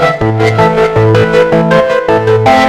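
Layered synth instruments programmed in Studio One Prime play together: a repeating bass line under chordal pads and a bright upper line, dense and steady, with no voices.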